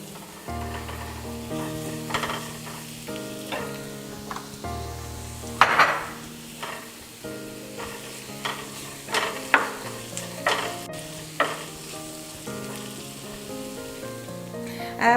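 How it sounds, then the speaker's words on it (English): Onions sizzling and crackling in a hot frying pan, with steady popping and intermittent scraping and clinks of a utensil stirring against the pan. "I'm going to put some garlic powder and turmeric on top of this sizzling onion"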